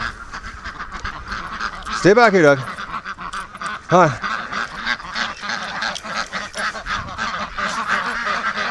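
A free-range flock of ducks calling as they head toward a lake, a couple of loud honking quacks standing out over steady softer chatter, with a person speaking throughout.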